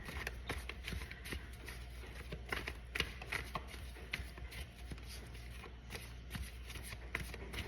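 Cards riffle and snap in quick repeated bursts, a soft papery shuffling that stops and starts at close range, with no talking.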